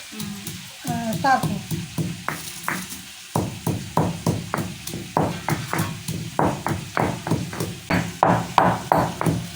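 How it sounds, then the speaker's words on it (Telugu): Roasted coriander seeds and shahjeera are pounded by hand in a kitchen, a steady series of sharp, close thuds at a brisk, even rhythm, with faint sizzling from onions and tomatoes frying nearby. "ఇవి దంచుకుందాం మనము వేయించుకున్న ధనియాలు షాజీరా షాజీరా"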